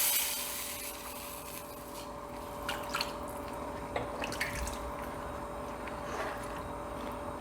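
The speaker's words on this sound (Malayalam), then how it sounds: "ആ പുളിവെള്ളം ഒഴിച്ചു കൊടുക്കാം." Tamarind water is poured into a pan of toasted spice powders, making a faint, steady liquid rush with a few soft clinks and scrapes of kitchen utensils.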